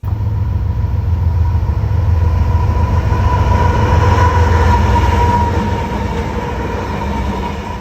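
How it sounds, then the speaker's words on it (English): A loud, steady rumble of a CSX auto rack freight train rolling past, wheels grinding on the rails with a sustained metallic hum, close and continuous. "It's an auto rack train making its way from the Wauhatchie Yard in Chattanooga, Tennessee"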